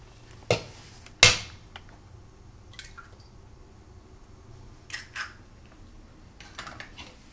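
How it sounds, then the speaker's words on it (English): An egg cracked firmly against the side of a mixing bowl while making pomegranate pound cake, giving two sharp knocks close together near the start, followed by faint shell and kitchen clatter. "So you take the egg and you hit it firmly against the side of your bowl"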